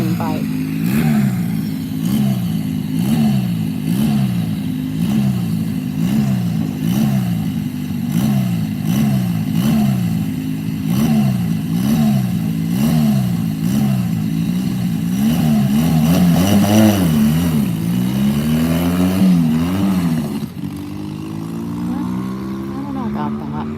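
A drag racing motorcycle at Rocket City Dragway in Huntsville, Alabama roars loudly and steadily, its engine note wavering up and down for about twenty seconds before dropping off, with a commentator's voice running underneath.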